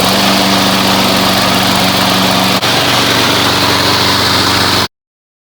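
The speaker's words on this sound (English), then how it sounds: "It does have an increased sound. It's almost like a whirring." A lawn mower fitted with a mulching blade runs at a steady, loud, close whir. The engine drone holds constant, briefly dips once, then cuts to silence near the end.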